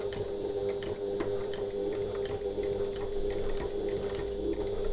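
A sewing machine stitches a zip bridge for a bag with a fine seam, running in a steady, fast rhythmic chatter at close range, alone with no talk.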